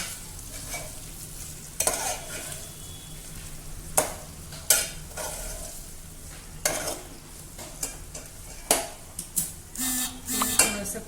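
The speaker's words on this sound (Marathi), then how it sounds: "त्याच्यामध्ये छान मिक्स करून घ्यायचं आहे सगळीकडं मसाला लागला" Masala being stirred into stuffed bitter gourd in a pan: close scraping and clinking of a utensil against metal in irregular bursts over a soft continuous sizzle, no voices.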